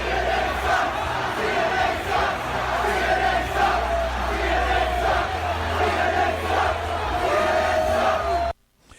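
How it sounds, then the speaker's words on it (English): A large crowd at a political rally chants a slogan against CNN in loud, rhythmic unison that fills the whole stretch, then cuts off abruptly near the end. "that was the crowd saying CNN sucks"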